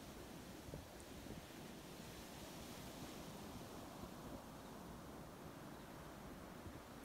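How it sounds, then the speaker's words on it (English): Water waves washing in a continuous, soft, even rush of broadband noise, faint and distant with no distinct breaks or voices. "Come back to the sound and the movement of water."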